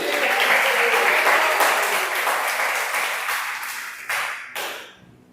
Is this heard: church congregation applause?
yes